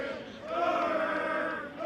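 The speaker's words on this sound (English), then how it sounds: "Yeah, we're seeing Durham cheering." Durham university team and supporters cheer at an American football match, a sustained blend of raised voices swelling and fading over about two seconds.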